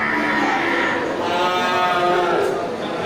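Cattle low in a crowded livestock market in Indonesia, with a long drawn-out moo rising over a busy hum of voices and market bustle, fairly close and loud.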